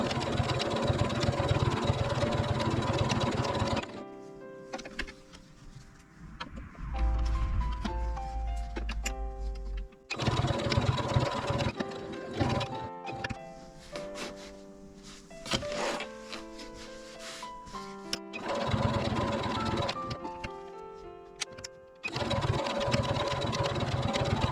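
A sewing machine stitches fabric for a hexagon patchwork tote bag in bursts of fast, steady mechanical whirring separated by quiet pauses, close and clear with no speech.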